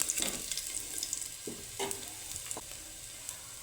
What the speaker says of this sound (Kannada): ಹಸಿ ಸ್ಮೆಲ್ ಹೋಗೋವರೆಗೂ ಸ್ವಲ್ಪ ಲೈಟಾಗಿ ಫ್ರೈ ಮಾಡ್ಕೋಬೇಕು